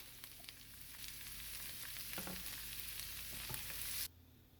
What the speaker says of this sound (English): Let's saute our onion and garlic first.